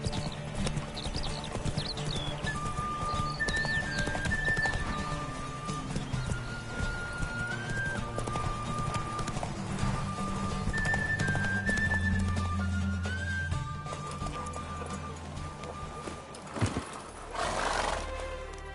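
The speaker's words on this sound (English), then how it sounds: "Truly swift, this mare." A mare gallops hard in a horse race in The Witcher 3, with rapid rhythmic hoofbeats throughout under a music track, and a loud whinny near the end.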